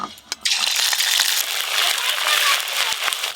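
Ginger and green chili paste hits hot oil in a pan after dried red chili tempering, giving a loud, bright hiss and crackle that runs on steadily after a brief clatter at the start.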